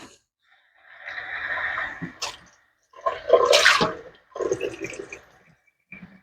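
Warm water splashes from a cup into sourdough discard in a bowl for pizza dough, in a few short pours and trickles separated by pauses, close and fairly loud.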